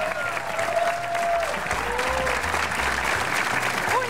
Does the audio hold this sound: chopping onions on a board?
no